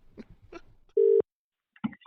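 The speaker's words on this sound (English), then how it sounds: "Let's ring Richard, huh" A telephone call is placed: a few soft clicks and taps come first, then one short, steady electronic ring tone sounds loudly and stops, followed by silence and faint clicks.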